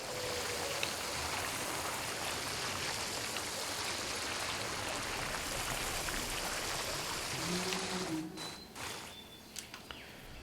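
Water pouring into a pond being filled in Jurassic World: Evolution, a steady close rushing wash that runs unbroken for about eight seconds before thinning out into a few scattered splashes.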